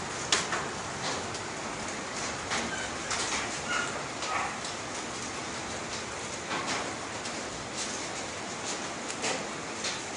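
Steady rain mixed with falling volcanic ash from the Taal Volcano eruption patters on surfaces with a constant broadband hiss, broken by a few sharper taps and faint distant barking.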